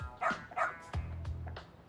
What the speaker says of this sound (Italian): a me sembra proprio un bravo cane